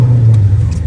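A Dodge Charger SRT engine drones loud and close with a steady low growl as the car slides on snow, one brief sustained pull with no voices.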